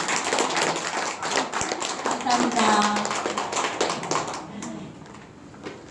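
Clapping rises from the audience at a Christmas praise festival in a rehabilitation nursing hospital, a steady patter of hands that carries on for several seconds beneath overlapping voices.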